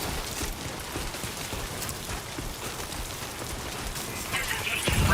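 Rain falls steadily in the video game Death Stranding 2, a constant hiss of drops on surfaces with some talking over it, growing slightly louder near the end.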